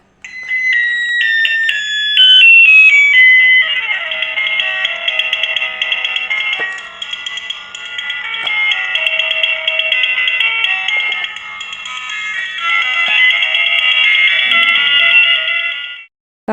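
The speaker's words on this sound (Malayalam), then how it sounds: "കാർഡ്ബോർഡിൽ നിന്നുള്ള സ്പീക്കറിലെ ശബ്ദം വളരെ മോശമാണ്" Thin, tinny electronic music plays from a phone through a small homemade cardboard speaker, bright and buzzy with little bass, continuing with brief pauses.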